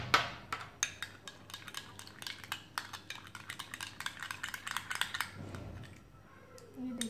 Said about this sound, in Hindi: इसको मिक्स कर लेंगे अच्छे से तीनों को